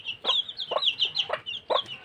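A hen clucks in four quick, close bursts, calling other hens over to worms, a sharp rhythmic farmyard call with no talk.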